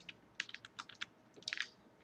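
Quick, light keystrokes patter on a computer keyboard in an uneven burst, close and fairly quiet with no voices.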